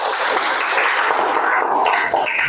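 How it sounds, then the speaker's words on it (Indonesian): A classroom group gives a dense, steady burst of clapping that stays loud and even throughout, with no voices over it. "beri tepuk tangan"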